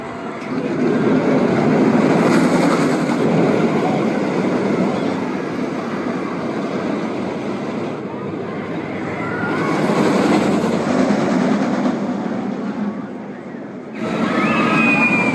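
A roller coaster train at Six Flags New England races along the track at night in a loud, sustained rush of wind and rumbling wheels that surges and fades in waves, with riders' voices faintly mixed in.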